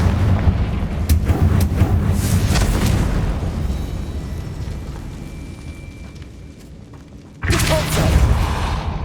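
In Hogwarts Legacy, a Confringo explosion spell goes off with heavy booming blasts: a cluster of sharp bursts early on, a rumbling fade, then a sudden loud eruption near the end.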